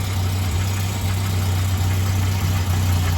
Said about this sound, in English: you want to set it with the engine running so the height correctors are working